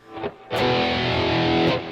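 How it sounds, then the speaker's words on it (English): A heavily distorted electric guitar chord through an amp's distortion channel rings out loud and sustained after a few muted picks, then cuts off; a guitar part. "I've now set my guitar amp to a distortion channel."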